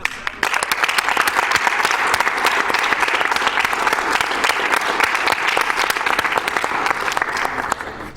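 A crowd at a speedrun marathon event claps loudly and continuously for several seconds, the applause dense and steady from start to finish.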